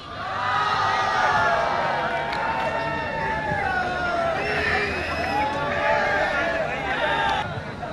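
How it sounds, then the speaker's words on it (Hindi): A farewell-event audience for a teacher cheers and whoops loudly in a steady crowd roar, with many voices overlapping throughout. "जोरदार तालियां हो जाए एक बार सर के लिए।"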